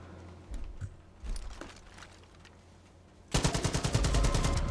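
Automatic gunfire in the shooter game Far Cry 5, a loud rapid burst of repeated shots arriving suddenly after a few scattered softer pops, close and sustained to the end.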